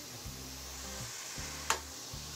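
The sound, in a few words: mutton trotters added to frying spice paste, sizzling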